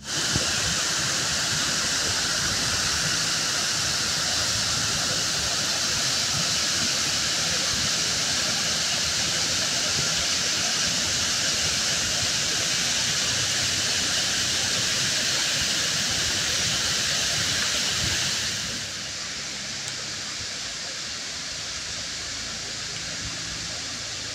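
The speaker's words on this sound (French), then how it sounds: "La cascade se nomme le voile de la mariée, comme à la Réunion." The Voile de la Mariée waterfall in the Écrins massif, a loud, continuous roaring rush of falling water that holds steady before dropping slightly in level near the end.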